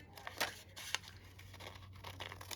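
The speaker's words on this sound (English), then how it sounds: "I'm just going to fussy cut this little cup of cocoa out" Small scissors snipping around a paper cocoa cup embellishment for a Christmas journal page, with faint crinkles of paper and a few brief crisp cuts over a quiet background hum.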